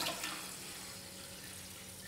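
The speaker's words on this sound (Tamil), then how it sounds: "இப்போ வந்து நான் வந்து ஒரு மூணு கப் அளவுக்கு தண்ணி சேர்க்குறேன்" Tap water runs steadily into a pot of washed rice and lentils for sweet sakkarai pongal, a soft, continuous pour heard alone without any talking.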